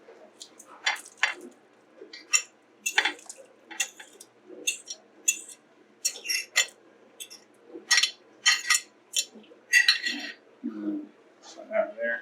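Pulled meat goes back into a crock pot with a series of soft, wet plops and sharp clinks of utensils against the ceramic pot, irregular and close, with pauses between each scoop.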